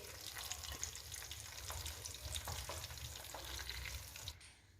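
Mutton chops sizzling in a frying pan, a continuous faint crackling fry with occasional stirring clicks, fading at the end.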